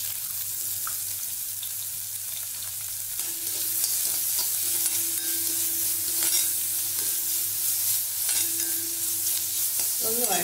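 Sliced onion sautés in a spoonful of hot oil in a pan, a close, bright steady sizzle with occasional stirring scrapes and a faint low hum underneath, no voices.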